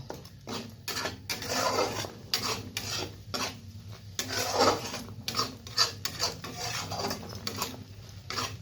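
A spoon stirs cauliflower rezala gravy with milk, cashews, melon seeds and poppy seeds in a pan, giving repeated scraping and rubbing strokes with light clinks against the metal, steady and close with no talking.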